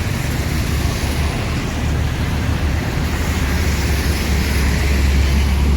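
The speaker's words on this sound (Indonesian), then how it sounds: "Ramai sekali nih lalu lintas ya" Heavy, continuous traffic on a busy Sumatran road during the morning rush, with buses and cars passing close by in a steady loud roar and no voices.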